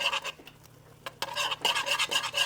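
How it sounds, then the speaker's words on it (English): A whisk scrapes and swishes steadily through corn cob jelly with pectin in a pot, giving close rasping strokes in a quick rhythm and a brief pause near the middle, with no talk. "you want to use a whisk while you're stirring this up because it breaks it up and distributes it better in the pot"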